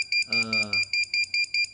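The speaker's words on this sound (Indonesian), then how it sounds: "buzzer akan bunyi" Ultrasonic distance sensor buzzer beeping in a steady rapid series of about nine short, loud, even electronic beeps, with a brief voice passing underneath.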